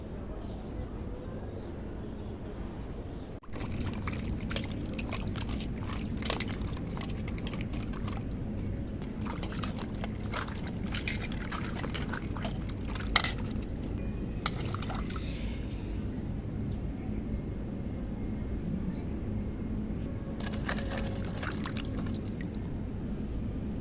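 Taro being washed by hand in water, with a steady close pouring and sloshing of liquid and occasional drips and squishy handling noises continuing for a long stretch.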